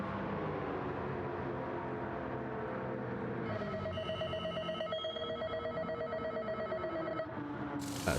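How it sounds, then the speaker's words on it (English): Pit entry cue in a racing video game during a weekly online race, with car after refuelling and fitting soft tyres: a steady engine drone, then a bright repeating beeping chime that rings for several seconds, ending in a brief burst of noise. "That's the noise of me arriving in the pits."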